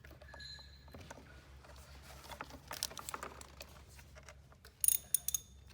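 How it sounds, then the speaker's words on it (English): A hand ratchet clicks quietly in scattered bursts while tightening the three mounting bolts on a snowmobile chaincase cover, faint over low background hum, with a few sharper clicks near the end. "I'm just going to tighten up the 3 mounting bolts."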